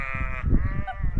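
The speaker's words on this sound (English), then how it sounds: "Don't know if you can hear me, not the sheep." Outdoor sheep bleating in a field, a drawn-out bleat followed by a shorter one, fairly close and loud over rumbling wind noise, with no talk.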